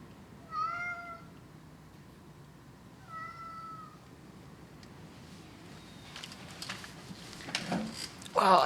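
A cat meows twice in a small workshop, each call clear and tonal with a short gap between them, followed by shuffling movement and clatter as the cat approaches.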